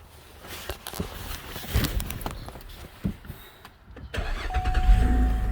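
2006 Cadillac STS engine starting after a no-crank repair: some handling clicks and knocks, then the engine catches around the midpoint and settles into a steady running drone, moderately quiet and close.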